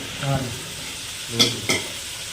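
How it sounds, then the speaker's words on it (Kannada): Fish frying in a pan at an outdoor fish party, a steady sizzle with two sharp scraping stirs near the end and a short burst of voice early on. "ನಾವು ಕೂಡಿ ಫ್ರೈ ಮಾಡ್ತಾ ಇದ್ದೀವಿ"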